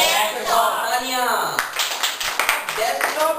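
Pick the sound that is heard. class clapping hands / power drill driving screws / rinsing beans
class clapping hands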